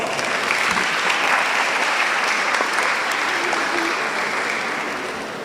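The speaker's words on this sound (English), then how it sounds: "another round of applause" Sustained applause from a large audience at a university parents and family orientation, dense and steady clapping that carries on without a break and tapers slightly at the end.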